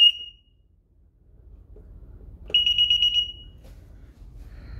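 A DSC alarm panel in test mode gives a short high beep, then after a quiet gap a rapid string of about half a dozen pulsed beeps, close and clear in a quiet room.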